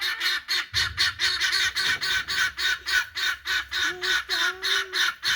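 Agitated guinea fowl call over and over, a rapid, regular series of harsh, rasping two-note cries, close and loud, with an occasional higher squeak among them.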